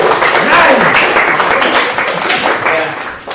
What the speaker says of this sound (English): Yes, a nice, wholesome round of applause for sexism.